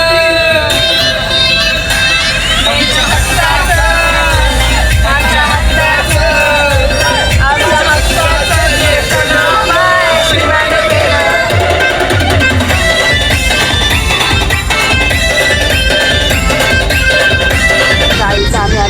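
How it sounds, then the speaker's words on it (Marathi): Large crowd at a packed gathering, a loud continuous babble of many voices with occasional shouts and whoops rising out of it, dense and close for the whole stretch. "गर्दी तर खूप आहे इथे"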